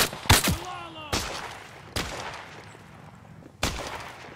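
Sharp, loud sniper shots ring out in the VR shooter Zero Caliber: four separate cracks spaced over a few seconds, each with a brief echoing tail, with no talking.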